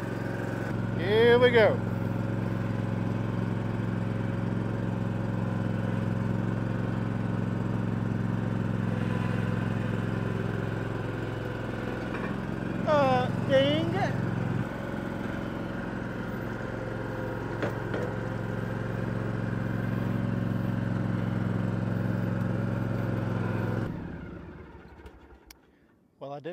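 A riding lawn mower engine drones steadily nearby as it drives up homemade trailer ramps, with brief squeaks and a voice speaking over it, until the motor cuts out near the end.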